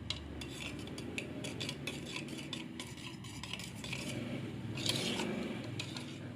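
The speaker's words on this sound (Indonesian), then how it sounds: "Ini kemudian kita aduk rata." A spoon stirs instant yeast into sugar water for Japanese milk bread, with quick repeated clinks against the bowl over a soft swishing, close and steady without talk.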